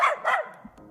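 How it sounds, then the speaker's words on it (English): Celestia, a dog in a Minecraft-style game, gives two quick sharp barks up close, followed by a faint whimpery trail. "Celestia? Your dog?"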